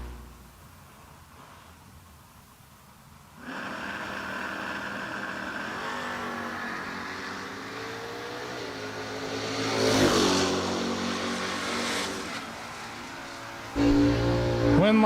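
Drag race cars of Kevin Martin and Gordon Smith roar off the line at a Six Shooter Showdown race, a loud sustained engine blast that surges and holds, with a second rise near the end and crowd and track noise underneath.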